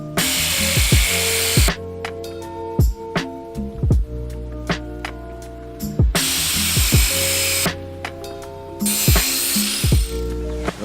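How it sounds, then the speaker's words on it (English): A power tool cuts metal L brackets and tubing in repeated loud grinding bursts. Each burst spins up, holds a harsh whine and drops off, separated by short pauses. "But first we need to cut this so I have something to weld back together."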